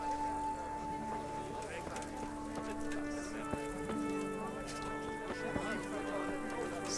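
Horse hooves clip-clopping in the medieval video game Kingdom Come: Deliverance, faint hoofbeats over steady ambient game music with occasional soft thuds.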